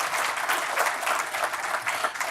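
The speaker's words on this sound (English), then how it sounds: "we can clap for Amy." Audience applause for award recipient Amy Cooper at the Friends on the Harbor 2021 event, a dense, steady burst of many hands clapping that continues throughout without a break.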